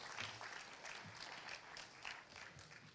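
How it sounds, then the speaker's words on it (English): A crowd applauds at an antique games and retro consoles roadshow, a soft, continuous spread of many hands clapping at a distance, fairly faint and without talk on top. "give him a round of applause"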